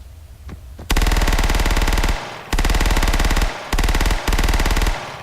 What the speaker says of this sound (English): with a good SMG, you have a good rate of fire with this weapon.